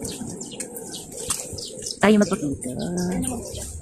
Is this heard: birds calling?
yes